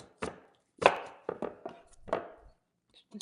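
A knife chops peeled beets into large cubes on a cutting board, with about half a dozen separate, crisp thunks spaced irregularly and close up, and a quiet pause near the end.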